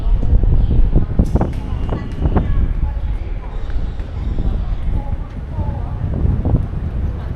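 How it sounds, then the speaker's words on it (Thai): Strong, cold wind sweeps across a wide open landmark area in Phnom Penh, Cambodia, buffeting the microphone as a loud, continuous low roar with gusty swells, and a few voices sit faintly underneath. "ลมแรงมากมากเลยนะคะ ลมเย็นมาก"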